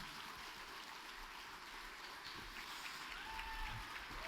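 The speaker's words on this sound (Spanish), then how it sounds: "Bishop con un fuerte aplauso." Congregation applauding in a church after an evening question-and-answer service, a steady, even wash of clapping lasting throughout, with faint voices mixed underneath.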